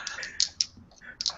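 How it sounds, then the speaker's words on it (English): Close-up computer keyboard typing mixed with mouse clicks, a quick irregular patter of light clicky taps at moderate volume, steady throughout with no one talking. "Mike's just giving us background for the keyboard noises"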